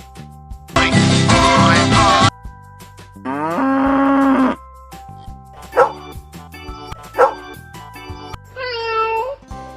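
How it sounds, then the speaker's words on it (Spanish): Recorded farm animal calls played in sequence: a loud, drawn-out cow moo up front, followed by other animal calls including dog barks and a meow, each separated by brief pauses, with no speech. "¿Recuerdan cómo hacía la vaca?"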